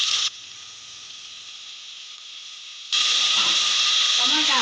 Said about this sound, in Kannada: ಟೊಮೆಟೊ ಹಾಕ್ಕೊಂಡು ಚೆನ್ನಾಗಿ ಫ್ರೈ ಮಾಡ್ಕೊಬೇಕು